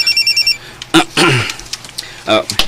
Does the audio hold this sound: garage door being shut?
no